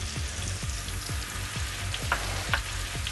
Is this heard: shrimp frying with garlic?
yes